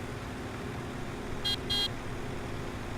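Two short horn honks from a farm vehicle in Farming Simulator 17, the second slightly longer, sounding over a steady low engine rumble with no talk.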